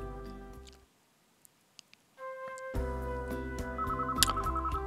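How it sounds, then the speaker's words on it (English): Electronic telephone ring in the visual novel White Album, a bright repeating melodic tone that starts after a short quiet gap and plays on steadily and clearly. "Phone ringing noise."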